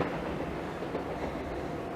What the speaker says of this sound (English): 1035 Greater Anglia service from Cheshunt to London Liverpool Street.